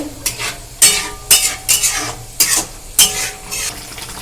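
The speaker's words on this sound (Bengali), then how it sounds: "আমি একশো টক দই ফেটিয়ে দিয়ে দিলাম এই মশলাটাকে এবার ভালো করে কষাতে হবে" Masala being stirred and fried in a pan with whisked sour yogurt for chana masala, a spoon scraping and clinking against the pan in repeated strokes about every half second over a steady close sizzle.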